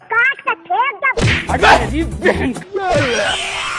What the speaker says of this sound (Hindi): कुत्ता और बिल्ली आपस में मार कुटैया करने लगे।